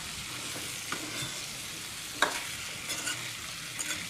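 Pumpkin stir-fried with onion and tomato for a kashiphal bhopla bhaji, a continuous faint sizzle broken by several light scraping and clattering stirs of the spatula against the pan, no voices.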